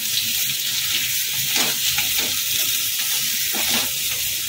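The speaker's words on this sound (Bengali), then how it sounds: "আবার একটু ভালো করে নেড়ে চেড়ে নেব।" Potatoes coated in turmeric and hot chilli powder sizzle loudly in a pan for aloo posto, a dense constant hiss with faint scraping strokes of a spoon running through it, close by and without talk.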